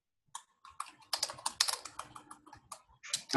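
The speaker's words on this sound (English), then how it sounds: "Excuse me, somebody is typing" Someone types on a computer keyboard during a recorded scripture lecture, tapping out irregular bursts of fairly close, crisp key clicks with short pauses in between and no speech.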